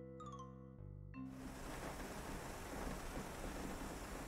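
Rain and thunder in the restaurant-building game PlateUp!: after a brief musical chime, a steady, fairly faint wash of rainfall with a low rumble sets in and holds without talk.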